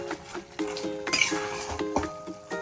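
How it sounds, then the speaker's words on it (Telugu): A spoon clinks and scrapes against a pot while chicken kurma is stirred with masala paste, giving a repeated rhythmic clatter of metal strokes with a faint sizzle underneath. "ఈ మసాలా ముద్ద వేసిన తర్వాత మళ్ళీ ఒకసారి ఇలా కలిపేసుకుందాం."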